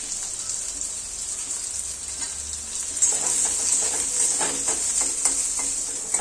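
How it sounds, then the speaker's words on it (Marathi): Long-sliced onions crackling in a little oil, a steady close hiss that jumps louder about halfway through as stirring adds soft scraping, with no voices. "कांद्यासाठी मी थोडंसं तेल सोडते आणि कांदा चांगलासा चरचरीत भाजून घ्यायचा आहे."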